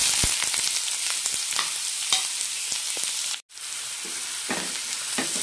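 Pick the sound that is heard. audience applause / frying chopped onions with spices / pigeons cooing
frying chopped onions with spices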